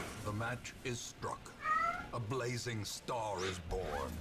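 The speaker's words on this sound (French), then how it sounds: "Quel râleur ce chat." A house cat meows and grumbles in a string of drawn-out, complaining cries that rise and fall, close and fairly loud, with a video game playing faintly underneath.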